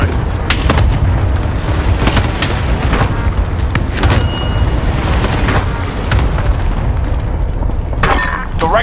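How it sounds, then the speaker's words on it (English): A cluster strike in Call of Duty Warzone sets off a rapid series of loud, close booms and rumbling blasts that overlap and keep coming for several seconds over a low roar. "Cluster strike is active."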